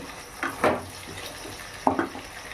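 Potatoes frying in a pan as they are stirred for an echod chingri dish, with a soft steady sizzle under a few short scraping and clattering bursts from the stirring.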